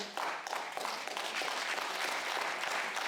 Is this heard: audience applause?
yes